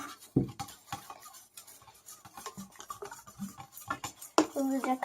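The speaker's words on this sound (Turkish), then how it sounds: "Hızlıca karıştırıyorum." A spoon stirring slime quickly in a bowl, giving rapid, irregular scraping and clicking strokes close up, with faint voices in the background.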